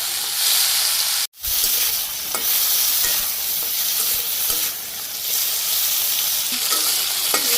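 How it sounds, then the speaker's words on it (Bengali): Okra fries lightly in oil with salt, giving a loud, steady close-up sizzle and hiss that breaks off for a moment near the start before carrying on unbroken. "ঢেঁড়সগুলো আমার ভাজি করা হয়ে গেছে, হালকা একটু ভাজি করছি"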